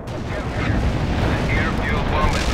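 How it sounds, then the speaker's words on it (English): Artillery and airstrike explosions in the strategy video game World in Conflict, a steady roar of rumbling blasts and booms layered together, loud and continuous, with voice chatter over the din. "Romanov, call in artillery and airstrikes on them"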